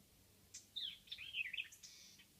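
Small birds chirp and twitter outside in an off-grid garden, a quick bright flurry of high calls, fairly faint and distant, with no voices.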